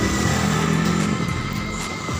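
A Yamaha Mio Soul i 125 scooter motor hums steadily nearby, a continuous low drone with slight fluctuations, heard alone without talk.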